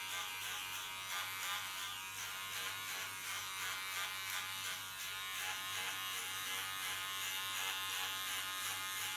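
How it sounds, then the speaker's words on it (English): Electric hair clipper buzzing steadily and close while cutting away hair at the nape during a bob haircut, a constant hum with slight changes as it moves, no talk. "So get it with my clipper, get rid of a lot of weight."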